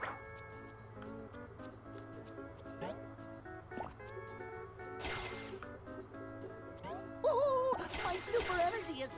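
A gurgling, filling tone plays as the super energy meter fills in the SpongeBob HeroPants video game, layered over steady game music with brief effect bursts and a rising flourish near the end.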